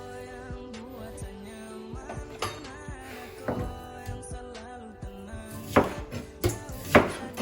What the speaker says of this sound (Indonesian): Biasanya gue potong-potong kecil gini ya